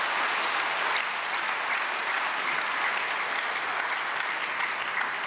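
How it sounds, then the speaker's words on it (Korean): Sustained, dense applause from an audience welcoming a guest lecturer at a Korean prayer meeting for peaceful reunification, steady and loud throughout without talk. "박수로 환영하시겠습니다"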